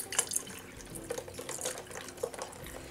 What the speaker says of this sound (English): a little bit more water in here